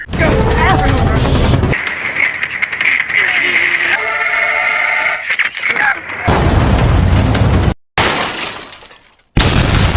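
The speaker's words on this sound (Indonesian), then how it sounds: "Dan mobil pun menabrak tulisan di lapangan." A car crash in a Korean action film after a struggle over a gun inside the speeding car: loud bursts of breaking glass and impacts cut between stretches of movie sound, with abrupt silent gaps.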